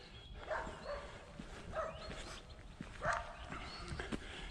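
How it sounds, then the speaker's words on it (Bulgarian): Several dogs near a monastery on Vitosha mountain give short, scattered barks and yelps at a moderate distance over outdoor background noise. "Има някакви кучета, но определено те не са опасни."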